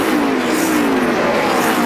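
A 2009 NASCAR Nationwide Series race car at Gateway roars past, a loud engine whine sliding downward in pitch as it moves away.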